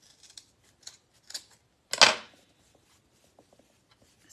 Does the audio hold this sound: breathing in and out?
no